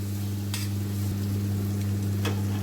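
Leftover khichdi roasts in a pan while being stirred, a soft continuous sizzle over a steady low hum, with a couple of brief scraping strokes of the spoon.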